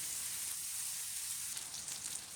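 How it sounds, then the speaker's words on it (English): A ribeye steak sizzles loudly on a high-heat portable stovetop, a dense steady hiss of frying close up that swells slightly toward the end, with no talking. "Listen to that sizzle."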